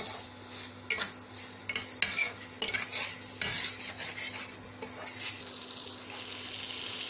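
Fried small potatoes are stirred and sautéed in a pan. A metal spatula clinks and scrapes irregularly against the pan over a soft sizzle, fairly quiet and close, with no voices.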